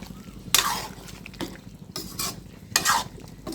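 A spoon scrapes and stirs a fish and pointed gourd curry with ground roasted cumin in a pan on the stove, several bright scraping strokes over a low simmering sizzle.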